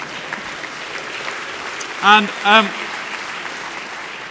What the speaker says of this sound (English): A round of applause for Margaret